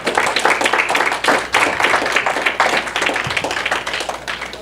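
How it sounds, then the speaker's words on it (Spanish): A church congregation claps loudly during an evening worship service, a dense, steady burst of hand claps with individual slaps standing out, sustained for several seconds without talk. "Damos un fuerte aplauso a las ofrendas"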